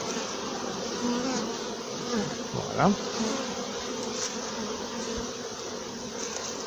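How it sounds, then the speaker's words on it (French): Honey bees buzz in a dense steady hum close by during hive grafting work, one passing louder near the middle, while a voice speaks briefly. "les dernières abeilles"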